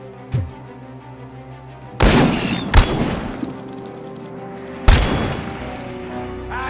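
Gunfire in the video game Robocop Rogue City: a few sharp, loud bursts of shots with a short pop early on, separated by a steady low game ambience, no voices.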